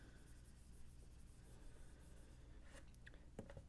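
A teacher erases writing from a board during a maths lesson, giving faint soft rubbing and scraping strokes that grow a little busier toward the end, with no talk.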